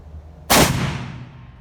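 A Shiloh Sharps rifle chambered in 45-70 Government fires one loud, close shot with a sharp blast that rolls off into a fading outdoor echo.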